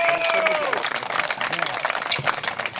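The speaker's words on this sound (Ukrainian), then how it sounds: "Ваші аплодисменти!" Audience at an outdoor metal detecting rally applauds and cheers for several seconds, dense clapping mixed with a presenter's amplified voice and crowd noise.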